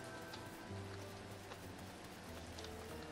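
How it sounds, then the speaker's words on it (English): Rain falls in the video game Dinkum, a soft, steady patter on surfaces that stays faint and even over a few seconds, with no voices. "I doubt I'm going to catch a fly while it's raining outside."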